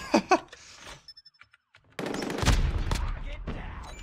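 Swordfish gun fires in a video game: a couple of sharp shots, a few faint clicks, then a sustained loud burst of rapid automatic fire with heavy impacts.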